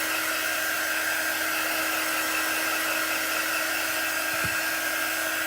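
A heat tool blows steadily to dry ink on a craft project, giving a continuous, even whirring hiss that holds at the same level throughout with no pauses and no talking.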